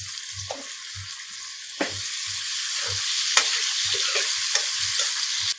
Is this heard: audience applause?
no